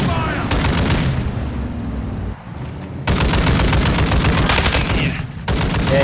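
Rapid automatic gunfire in a multiplayer shooter video game, loud and dense, running in long sustained bursts with a short break near the middle, no talk.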